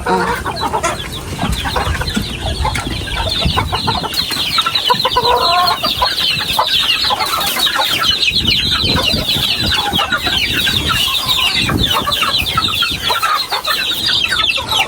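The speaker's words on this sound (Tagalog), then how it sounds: "Siya pa na ang mga manok dito sa likod." Many chickens cluck and squawk continuously, a loud busy flock close by with overlapping calls throughout.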